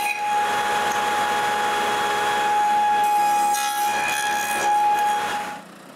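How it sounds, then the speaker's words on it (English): A power saw cuts wooden box joints for a handmade tripod: a steady, loud whining drone with a tonal edge, holding evenly for several seconds before cutting off near the end. "So it's time to cut more box joints."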